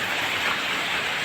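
Heavy rain pours down steadily as a loud, dense, unbroken hiss with no pauses.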